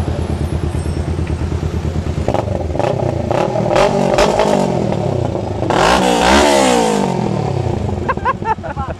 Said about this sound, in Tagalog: patisting natin yung motor natin